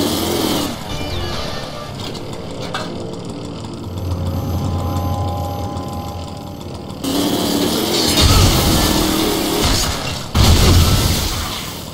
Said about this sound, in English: Yes, I used my chainsaw a lot.